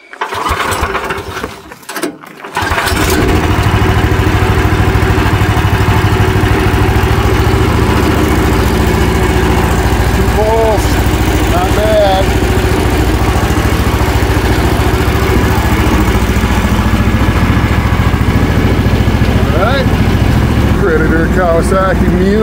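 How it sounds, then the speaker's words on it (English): Predator 420 engine swapped into a Kawasaki Mule UTV is pull-started after a few seconds of rustling, then runs steadily with a loud, close, constant idle throughout, with faint voices occasionally underneath. "let's go ahead and pull start here"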